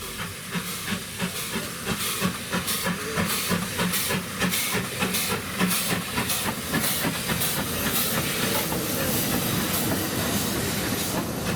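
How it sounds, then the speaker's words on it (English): A newly restored NG15 Kalahari class narrow-gauge steam locomotive, running light engine on the Welsh Highland Railway, gives off a steady loud hiss of steam with rhythmic clanking and chuffing pulses throughout, no voices. "Another locomotive arrived, the newly restored NG15 or Kalahari class, that had come light engined from Dinas Depot."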